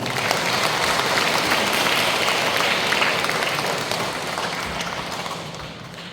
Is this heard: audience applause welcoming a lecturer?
yes